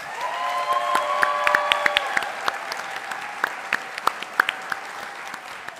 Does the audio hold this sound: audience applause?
yes